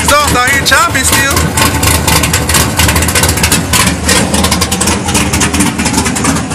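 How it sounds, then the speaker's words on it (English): A 2002 Chevrolet Camaro SS with LS2 heads, an aftermarket cam and full exhaust idles loud and close with a lumpy, choppy rhythm, and voices talk over it. "Full exhaust out here chopping still."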